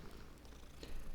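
Soft, steady purring of a kitten being petted in the Hogwarts Legacy video game, a faint low continuous rumble heard alone.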